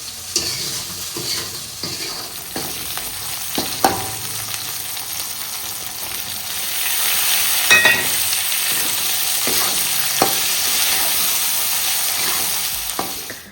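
Soybeans frying in a second kadai, a steady bright sizzle of hot oil with occasional stirring clinks and scrapes, growing louder in the second half, with no talking.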